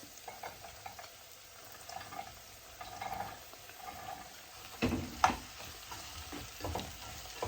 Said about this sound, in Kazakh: Екеуін бірге қызарғанша қуырамыз.